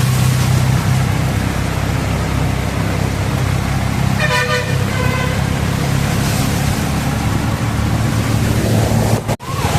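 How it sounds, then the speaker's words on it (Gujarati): An auto rickshaw drives through a flooded, rain-soaked street in Rajkot, with a constant rush of engine and water noise up close and a couple of short horn toots in the middle, and no talking. "જોઈ લ્યો પાણીની બહબહાટી ચાલુ છે અને રિક્ષા લઈને જઈએ છીએ"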